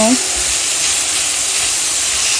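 Onions frying in a hot pan give off a loud, dense, steady hiss of sizzling oil that carries on without pause.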